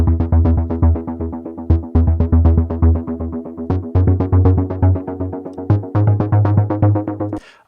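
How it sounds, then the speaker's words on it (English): The Absolute bass synth from the Dreamscape's Uplifting Ambient pack throbs in fast, even pulses, a loud, deep, rhythmic chugging pattern with slight accents that runs continuously before stopping abruptly. "This pulsating bass synth is called Absolute"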